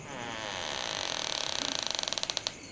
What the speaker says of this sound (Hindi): और फिर दादाजी ने दरवाज़ा खोला।